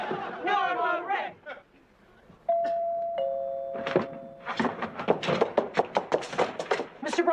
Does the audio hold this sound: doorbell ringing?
yes